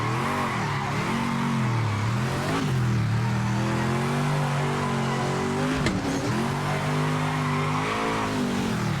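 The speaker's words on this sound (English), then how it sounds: "I'm just burning the rear tyres up for the sake of it now" A racing car in the video game Project Motor Racing burns its rear tyres, its engine howling loudly and steadily with wavering revs and a continuous tyre squeal throughout.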